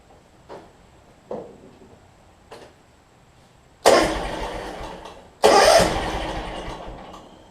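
A flooded John Deere X300 lawn tractor with white smoke and gas in the oil cranks in a few short bursts, then its engine catches twice in loud, rough surges that fade off.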